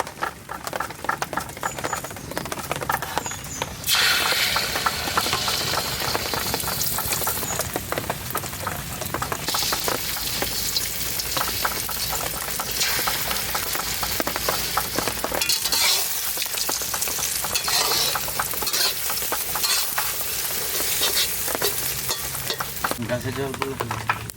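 Eggs beaten with salt and ground pepper fry in mustard oil, a dense, continuous close-up sizzle and crackle with occasional stirring scrapes, loud and unbroken throughout.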